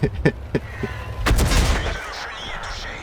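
A heavy cannon blast from a Somua SAu 40 tank destroyer in a video game booms loudly and rolls off into a rumbling echo, preceded by a few sharp smaller impacts.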